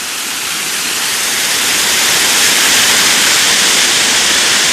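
Waterfall at Big Woods State Park on Prairie Creek, where the creek runs over a limestone bed, heard from above as a steady, loud broadband roar that swells slightly and holds constant with no voices.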